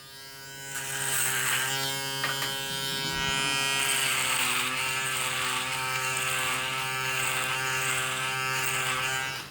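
A Panasonic ES-RM3B Arc 3 electric shaver runs with a steady, close, high-pitched motor buzz and whine that holds level throughout, with a brief rattly change in tone early on.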